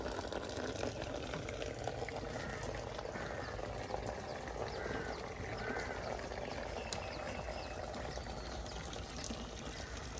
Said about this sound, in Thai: เสียงน้ำตก